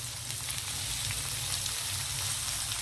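Onion fries in oil in a pan for a homemade paneer capsicum curry, giving a steady, dense sizzle with no pauses and low crackling underneath.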